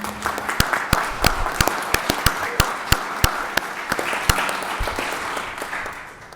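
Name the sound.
audience round of applause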